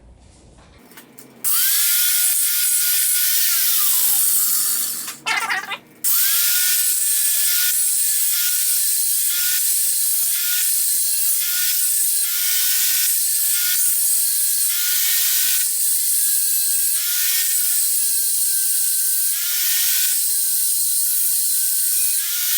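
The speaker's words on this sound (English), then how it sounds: "So I'm going to grind this smooth first of all, and then we'll go from there." Grinding smooth a metal weight inside a Remington 700 rifle stock: a loud, steady power-grinder whine runs almost the whole time with a brief pause near the start and wavering pitch as the tool bears on the metal.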